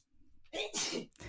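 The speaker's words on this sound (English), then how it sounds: "I'm sorry, I'm sneezing." A single sneeze, a short intake followed by a sharp burst, then a trailing breath, close and fairly loud.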